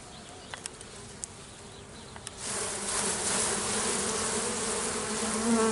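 Honeybees buzz around an open hive during an early-season inspection as brood frames are removed, a few soft knocks giving way to a dense, close swarm-like hum that swells and stays steady, with no one speaking.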